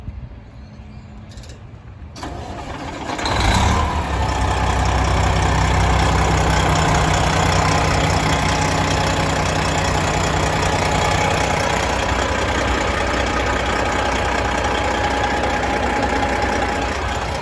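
A hot 2016 Peterbilt 389 glider kit tri-axle dump truck engine cranks and catches after a few seconds of quiet, then settles into a loud, steady, rumbling idle close by, with no talking.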